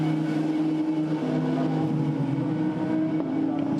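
Lamborghini Super Trofeo race car rolling down the pit road at the Nürburgring during a race, its engine a steady, loud low drone with a slight lift near the end.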